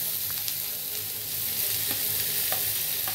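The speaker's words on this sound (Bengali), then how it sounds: "এরপর মাছটা দিচ্ছি" Fish frying in a pan for cutlets, a dense, steady hiss of hot oil with small pops and crackles scattered throughout.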